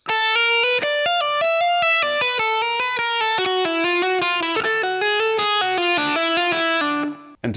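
Distorted electric guitar plays a hybrid Dorian blues legato lick, a fast, smooth run of hammered and pulled notes stepping mostly downward, loud and up close with no talking.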